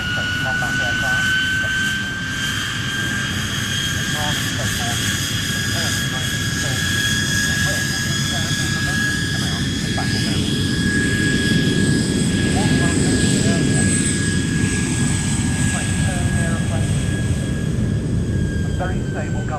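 Hawker Hurricane fighters at the Duxford Battle of Britain airshow, a loud, continuous piston-engine drone with wavering tones as the aircraft fly past, while a commentator talks over the engines.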